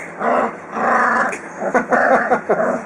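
A small Rhodesian Ridgeback puppy growls in a few rumbling bursts with brief pauses between them, close and fairly loud, with some yipping mixed in.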